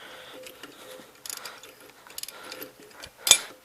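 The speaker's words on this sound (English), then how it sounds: "let me get the ratchet on" Ratchet wrench clicking on a rusty, rounded nut of a 1952 Gravely L tractor, with short bursts of metallic ratcheting spread across the clip and a sharper clank near the end, close and moderately loud.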